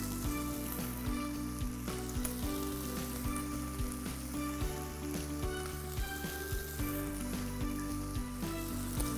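Oil frying small pieces of meat in a pan as a light pre-cook for Ramazan kebab, a steady dense sizzle and crackle running continuously at close range with no talk.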